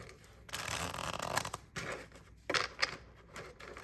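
Tarot cards are shuffled by hand in quick soft riffling bursts, several short papery flutters with brief pauses between them, close and quiet.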